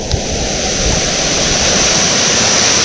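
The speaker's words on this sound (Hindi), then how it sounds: "ये है मंडवा वाटरफॉल, बहुत प्यारा, बहुत प्यारा" Mandwa waterfall in Bastar, Chhattisgarh, a steady loud roar of falling water, broad and continuous with no break, heard close by.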